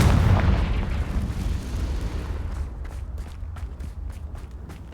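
A Confringo blast spell explodes in Hogwarts Legacy with a loud, deep boom that rumbles and slowly fades. A string of faint crackling pops trails off afterward, and there is no talk.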